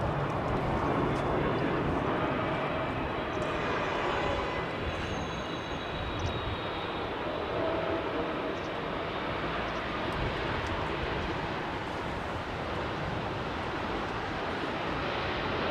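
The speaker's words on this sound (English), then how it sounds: "Another BA jet comes in" A British Airways jet landing at a London airport, its engine roar and rushing air loud and continuous from start to end, with the broad wash staying steady and no talk heard.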